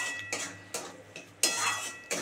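Whipped sour yogurt being stirred into hot spiced oil, a series of spoon clinks and scrapes against the pan at irregular intervals, close by with no voices.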